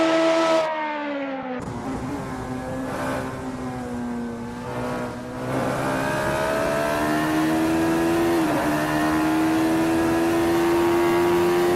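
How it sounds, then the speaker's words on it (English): Radical SR3 race car engine droning steadily in a sim racing game at Donington Park, a continuous loud tonal whine rising in pitch through the gears with a brief dip near the middle, no talk. "The rubber's burning, the crowd's yearning, and Puppy Dog from Hell's engine is churning to get past Eddie G."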